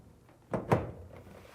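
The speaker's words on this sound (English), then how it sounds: "and set the door in place." Two close, quick thunks of a Samsung dryer door being set into place, followed by a faint lighter knock.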